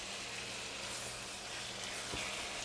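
Ground meat browning in a pan for meat sauce, a steady, soft hiss and sizzle with a low background hum throughout, quiet and unbroken.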